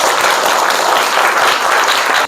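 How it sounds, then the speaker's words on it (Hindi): Loud, dense applause from schoolchildren at a science magic show fills the room as a continuous close clatter that cuts off abruptly at the end. "चलो एक बार जोरदार ताली बजाओगे।"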